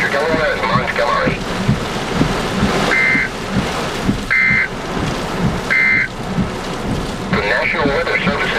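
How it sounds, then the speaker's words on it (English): Strong wind roars steadily through a supercell thunderstorm near Easton, Pennsylvania, with rain mixed in. Repeated electronic alert beeps and a voice come through the gusts. "Look at this wind."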